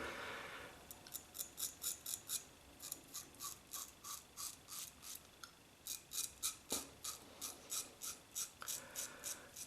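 A Figaro double-edge razor scrapes across lathered stubble in quick, repeated rasping strokes with a thin, tinny edge, steady and rhythmic, close to the ear and faint overall with no voices.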